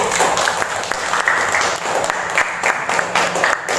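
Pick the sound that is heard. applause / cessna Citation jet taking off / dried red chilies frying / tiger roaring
applause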